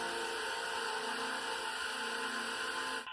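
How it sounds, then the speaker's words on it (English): Cooling fans of a smartphone's built-in DLP laser projector give a steady, broadband whirring hiss with faint tonal hum, constant throughout and cutting off abruptly near the end, with no voices. "it's the sound of the fans"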